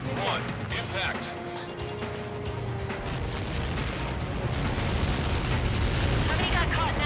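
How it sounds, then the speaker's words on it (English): A massive Helios projectile impact in Ace Combat 7 rolls out as a deep, sustained rumbling roar that swells and lingers, with radio voices talking over the blast. "How many got caught in that explosion?"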